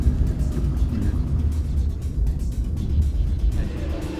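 A Peugeot iOn electric car pulls away under hard acceleration at an electric vehicle event, giving a steady low road and motor rumble with faint voices underneath.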